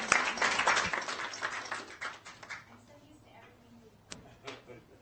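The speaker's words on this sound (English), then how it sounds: "So round of applause" A short burst of clapping from a small group at a school board meeting, fading out within a few seconds, followed by a quieter room with scattered noises.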